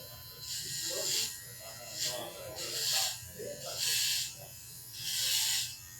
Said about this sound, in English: I'm going to start with one of the newer trimmers on the block. This is the Andis Bespoke.